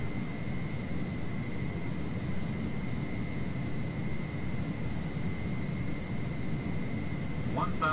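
Steady broadband roar of a Boeing 727-200 jet airliner in flight in a flight simulator, a constant engine drone held evenly throughout with a faint tonal whine above it and no talk.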